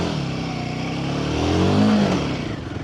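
A Royal Enfield Himalayan motorcycle rides on a dirt track, its engine note loud and close, rising in a rev around the middle before easing off, with no talk over it.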